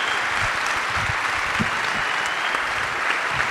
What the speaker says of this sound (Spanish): Un aplauso para el maestro Santi Siri